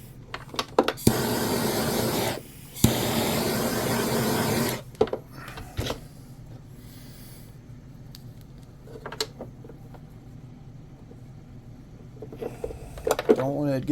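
A heat gun blows a steady, loud roaring hiss for about four seconds while warming adhesive tape to mount a Spektrum ESC on a Pro Boat UL-19 hydroplane, followed by quieter workshop handling noises and brief speech.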